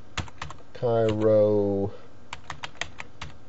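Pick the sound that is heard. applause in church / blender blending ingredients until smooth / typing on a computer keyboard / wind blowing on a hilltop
typing on a computer keyboard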